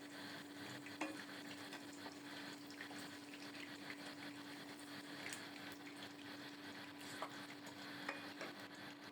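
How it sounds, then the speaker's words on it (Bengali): Papaya and potato pieces fry in oil with salt, a soft steady sizzle with light stirring and scraping, faint and close, with a constant low hum running underneath. "ভেজে নিচ্ছি পেঁপে আর আলু, শুধু লবণ দিয়ে হালকা করে ভেজে নিলাম।"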